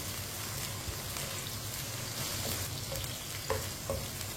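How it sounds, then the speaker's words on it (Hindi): Okra (bhindi) fries in a pan with a steady dense sizzle, while a spoon stirs it in soft scraping strokes at close range, with no talking over it. "इसे ऐसे ही चम्मच चलाते हुए पकाना है, फ्राई करना है।"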